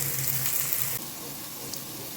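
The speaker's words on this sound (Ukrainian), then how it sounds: "Сало шкварчить, аромат дуже смачний." Pork fat (salo) sizzling in a small frying pan, a steady bright hiss and crackle that drops slightly in level partway through, with no talk.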